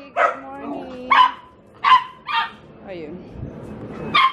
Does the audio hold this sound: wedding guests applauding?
no